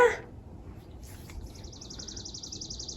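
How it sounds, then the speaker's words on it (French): Small birds sing in the morning outdoors, a faint repeated trill carrying on in the distance over low background hum, with one short sharper call just before it. "On entend les petits oiseaux un matin."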